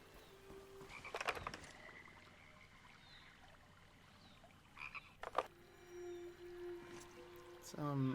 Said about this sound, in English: Also, I hear frog, but I do not see frog.